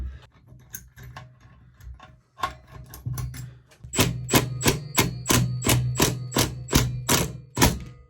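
A flywheel on a small two-stroke engine is worked with a puller, giving a run of sharp metallic ticks and taps that build into a steady, evenly spaced series of loud clicks at close range.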